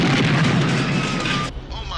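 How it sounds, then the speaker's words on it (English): Bomb blast at a police precinct house, a loud, sustained rumbling boom that fills the clip and then cuts off abruptly into quieter background noise. "Oh my God, someone's bombing the precinct house."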